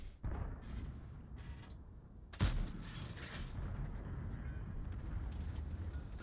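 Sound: tank cannon shot in video game

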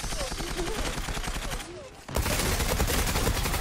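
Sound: TAR-21 rifle gunfire in the video game Zula

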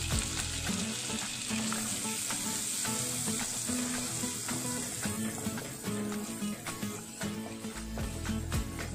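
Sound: garlic and onion frying in a pan

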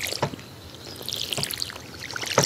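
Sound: watering crops in Stardew Valley video game

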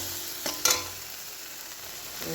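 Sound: sautéing spices with turmeric and chilli powder in pan

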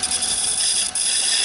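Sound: square scraper cutting wood on a lathe

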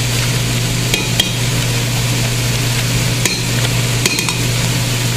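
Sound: stirring garlic and tomato paste frying in a pan

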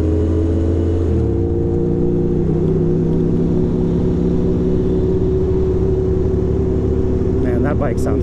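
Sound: motorcycle engine revving in Manhattan traffic

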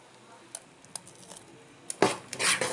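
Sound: stirring appam batter in a vessel

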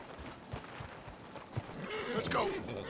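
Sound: horses neighing and hooves from a coach in Red Dead Redemption 2 video game

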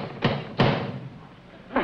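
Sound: knocking on an apartment door

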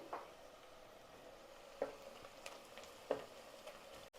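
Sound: onions and green chillies frying in a pan

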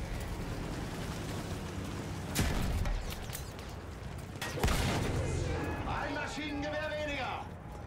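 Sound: gunfire in Battlefield 1 video game

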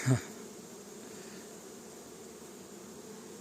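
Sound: honeybees buzzing

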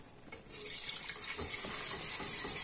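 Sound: pouring cold milk into béchamel sauce

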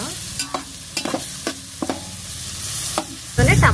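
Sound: onions frying with ginger garlic paste and salt

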